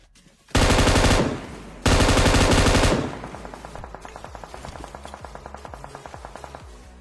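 Sustained automatic gunfire from PUBG Mobile play: two loud continuous bursts, then a steady run of rapid individual shots at a lower level, with no talking.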